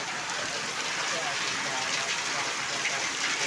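Sudden heavy rain pouring down, a dense, steady hiss of downpour close by, loud and unbroken throughout.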